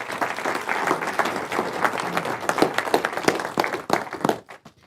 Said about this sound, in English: please give them a big round of applause as they take their seats